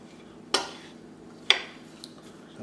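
Christmas pudding ingredients, including sultanas and suet, are stirred in a mixing bowl, giving two sharp clinks of a spoon against the bowl and a few softer scrapes over quiet room hiss.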